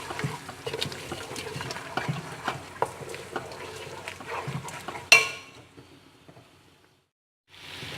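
Tomato paste frying with yogurt and meat for tomato gosht, with repeated scraping and tapping stir strokes over a faint sizzle, then one sharp metallic clang that rings down into near silence before a soft hiss returns.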